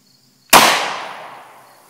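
FN Five-seveN pistol firing a 5.7x28mm VarminTOR 30gr JHP round outdoors near a chronograph: one sharp, loud crack after a quiet lead-in, followed by a fading ring and echo lasting over a second.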